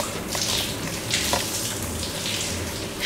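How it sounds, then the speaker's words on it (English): A toy shower runs water into a toy bathtub, giving a steady close hiss of spraying water with a few brief splashy bursts, heard alone. "she takes a shower"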